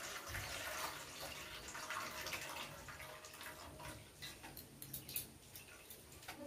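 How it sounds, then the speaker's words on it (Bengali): Water poured over roasted taro flowers to cool them: a steady hissing splash and trickle, close and fairly soft, tapering with a few drips near the end, with no talk. "আমি ঠান্ডা করার জন্য একটু জল দিয়ে দিলাম।"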